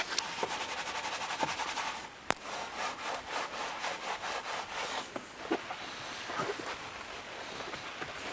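A brush scrubs wheel cleaner into a tyre in quick, rhythmic back-and-forth strokes, a close rasping scrub repeated steadily with a sharp knock midway, with no talking.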